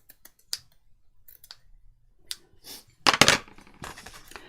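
Sharp scissors snip through fabric in a few irregular, crisp cuts close by, with small clicks and rustles between them and a denser burst of snipping near the end.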